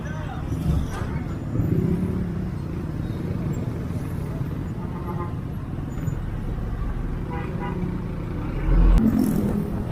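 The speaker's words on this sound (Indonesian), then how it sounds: "macetnya karena ada bis, lampu merah, dan mobil-mobil besar seperti ini" Jammed roadway traffic with buses and large vehicles around a red light on the way toward Cikarang: a steady low rumble of idling and creeping engines, swelling a little as heavy vehicles move. A voice is heard faintly at times.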